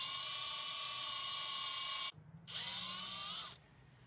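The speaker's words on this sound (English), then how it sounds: "I did manage to get my drill to fit in here." A power drill whines steadily at high pitch while counterboring metal at slow speed to repair stripped threads, briefly stopping and restarting before winding down near the end.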